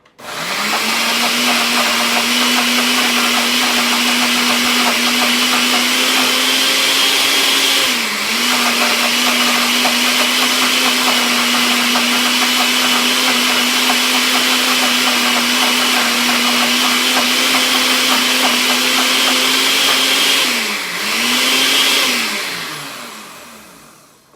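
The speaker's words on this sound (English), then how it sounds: "We're going to keep blending." A blender blending beans runs continuously at a steady high whir, with two brief dips in pitch as the load shifts, loud and close.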